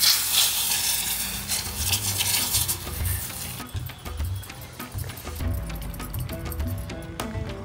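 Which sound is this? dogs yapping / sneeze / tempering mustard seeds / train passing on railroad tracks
tempering mustard seeds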